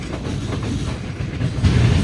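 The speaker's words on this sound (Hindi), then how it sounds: "ये चक जुमरा बाईपास ट्रैक कह लें आप इसे" The Karakoram Express runs along the Chak Jhumra bypass track in Pakistan, its close, rumbling wheel noise swelling louder near the end of a short stretch.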